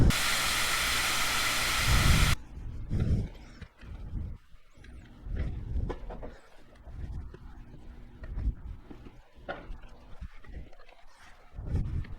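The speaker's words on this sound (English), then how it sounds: "Let's take the air out of the tire." Air bursts loudly from a bicycle tire valve in a strong steady hiss for about two seconds, then cuts off, followed by quieter handling noises and intermittent talk.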